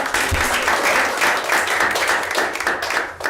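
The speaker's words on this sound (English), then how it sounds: "Let's hear it for Eric and Sarah." An audience bursts into steady applause, many hands clapping together in a dense, sustained wash that fades slightly near the end.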